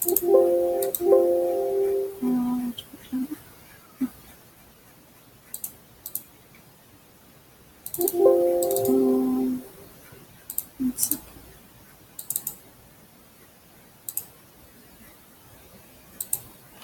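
Computer mouse clicks while extracting pages from a document, sharp isolated clicks spaced a second or two apart, with brief synthetic tones and a person talking between them.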